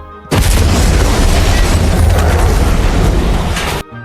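A loud, deep explosion booms suddenly and rumbles on for several seconds before cutting off sharply.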